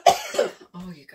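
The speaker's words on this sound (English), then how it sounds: "Oh, you guys, I tell you, this cough." A single close, hoarse cough with a short throat-clearing rasp after it, followed by a brief voiced sound.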